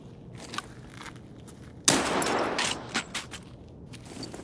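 Gunfire in Escape from Tarkov: after quiet footsteps, one sharp, loud shot is followed by a few fainter reports and scuffing steps.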